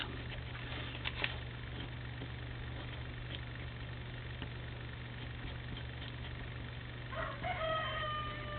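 A rooster crows faintly near the end, a drawn-out call heard over a steady low hum and quiet background noise.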